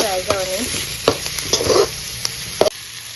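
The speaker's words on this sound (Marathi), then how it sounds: "सो ताका लागून सो कांदो आनी टमाट बरो फ्राय जावन" Onion and tomato frying in a pan, a steady close sizzle broken by several sharp scrapes and clinks of a spoon stirring, with no talking.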